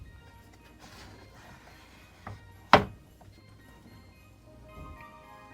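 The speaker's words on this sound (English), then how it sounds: "you put the knife in, cut, put a slit into the chestnut" A knife scores a chestnut on a cutting board, one sharp, close knock standing out from a quiet background with a few faint taps around it.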